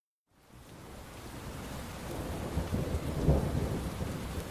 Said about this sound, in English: The violent storm has reduced to a miserable, weeping drizzle.